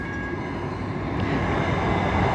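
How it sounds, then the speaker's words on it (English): A train rumbles steadily past near Columbia railway station junction in India, a loud continuous roar of wheels and carriages close by, with no voices. "This is the train again."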